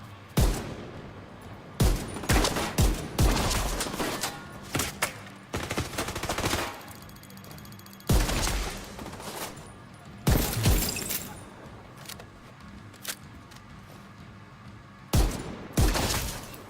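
Bursts of video game gunfire against a heavily armored hostile, loud sharp volleys and rapid automatic fire in clusters with short gaps between them, with no talking over it.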